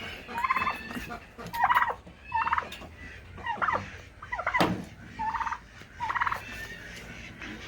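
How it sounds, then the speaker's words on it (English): A chicken clucks in a series of about eight short, loud bursts of repeated calls, each separated by a brief pause. Faint background noises sit between the bursts. "Chicken."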